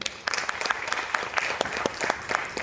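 Audience applause at a silver-jubilee stage event honouring two performers of a Mahabharata audio drama about Karna, steady clapping from a modest crowd with no voices over it.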